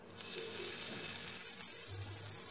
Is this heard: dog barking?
no